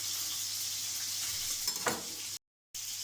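Chicken thighs brown in a pan with a constant bright sizzle and a faint low hum beneath. A short utensil scrape comes near the end, just before a brief dropout of silence.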